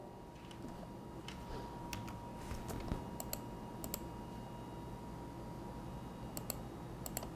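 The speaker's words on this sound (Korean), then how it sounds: "그 다음에 엔터를" Keys on a computer keyboard click in short, sharp taps while CAD drawing software is in use, scattered irregularly over a quiet room hum with no voices.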